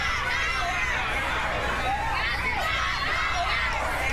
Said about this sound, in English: quite possibly the most passionate crowd at a competitive eating event ever